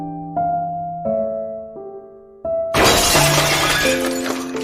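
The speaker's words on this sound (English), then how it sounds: "The mirror shattered" A mirror's glass shatters in one loud, sudden crash that follows a few sustained piano notes, with the spray of breaking glass ringing out under continuing music.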